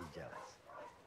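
A dog in The Last of Us 2 gives short excited yips and whimpers, mixed with a person talking over it, close and lively.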